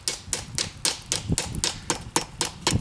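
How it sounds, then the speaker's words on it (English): A ball peen hammer strikes a metal spoon resting on a wooden stump, about a dozen sharp metallic taps in a steady, even rhythm, close and clear, while the spoon is shaped into a bowl. "I'm going to use my ball peen hammer"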